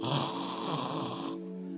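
A voice mimics his wife's snoring during a sermon: one drawn-out, rasping snore lasting just over a second, close and fairly quiet, then stopping abruptly.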